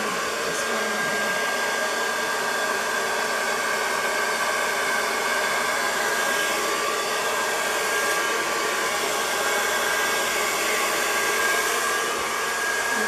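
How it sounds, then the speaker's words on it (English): A hair dryer fitted with a small nozzle blows steadily and loudly over fluid-art paint for the whole stretch, a constant broadband whoosh with a faint motor hum and no voices. "I think I'm gonna use my other hair dryer for that."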